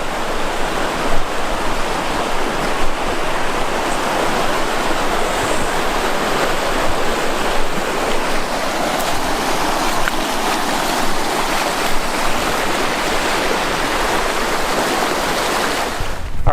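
River crossing on a backpacking trip in the Superstition Wilderness: steady, loud rushing and splashing water close by, continuous broadband churn with occasional louder splashes and no talk.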